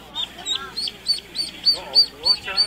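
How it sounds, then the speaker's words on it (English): A bunch of baby ducks peep in a rapid, evenly spaced series of high chirps close to the microphone, with soft, lower quacking murmurs mixed in. "So I got a bunch of baby ducks here."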